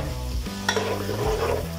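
Chopped garlic and onion sizzle in a little oil in a small pot while being stirred, a close, steady frying hiss with soft scraping.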